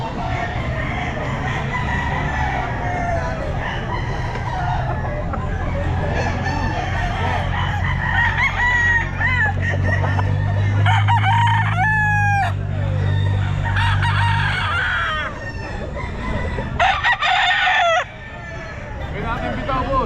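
A sweater-breed gamefowl rooster at a pet market crows loudly amid a busy, noisy crowd, with more crowing and clucking from nearby birds over steady background chatter.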